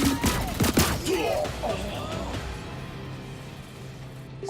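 Rapid gunfire in the first-person shooter Lawbreakers, a burst of loud, dense shots in the opening second or two that thins into a steady background hum.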